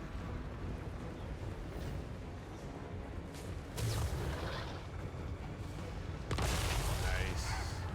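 Artillery fire and booms from Total War: Warhammer 3 with Chaos Dwarfs, a dense continuous battle din with heavier blasts bursting in partway through, under a speaking voice.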